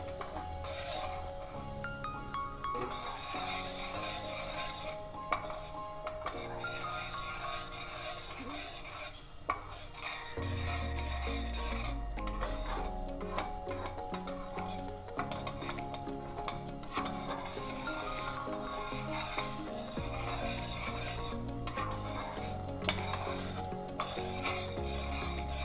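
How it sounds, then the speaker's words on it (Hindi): Chicken pista korma is stir-fried in a pan over a lowered flame, giving steady scraping and stirring with a soft sizzle throughout. Background music plays continuously, and no one speaks. "हम चूल्हा कम कर दिए हैं और इसको भूनना है 2 मिनट।"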